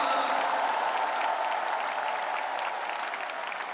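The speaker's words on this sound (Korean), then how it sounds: "박수 한번 부탁드립니다." Audience applause at a political party nomination acceptance speech, a dense, steady wash of clapping from a large crowd that stays loud and slowly eases off, with no talk over it.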